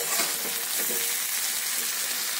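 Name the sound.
eggplant frying in a pan with salt and turmeric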